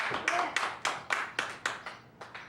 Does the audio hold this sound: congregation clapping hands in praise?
yes